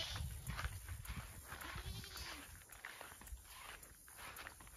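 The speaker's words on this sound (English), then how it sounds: "the little goats came too." Little goats moving about a farm, faint bleats and soft scattered footsteps over a steady outdoor background, with a hint of a voice.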